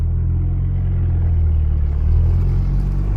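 A Ford Focus MK2 ST pulls away up a steep driveway, its engine a steady, loud low rumble heard from inside the car with no talking.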